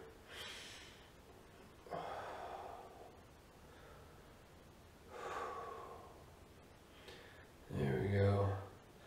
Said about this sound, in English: Good controlled breathing.